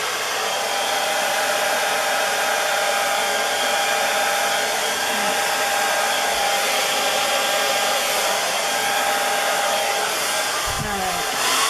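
A blower pushes air across a fluid art Dutch paint pour, giving a loud, steady whooshing roar that runs without pause from start to finish, with a faint knock near the end.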